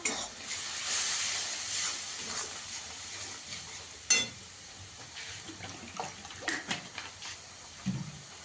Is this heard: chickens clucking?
no